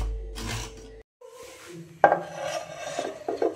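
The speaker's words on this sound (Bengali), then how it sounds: "চলুন নারকেলটা কুড়ে নি।" Fresh coconut being grated by hand against a metal scraper, with short raspy scraping strokes coming in bursts after a pause, close and fairly loud, with no talk.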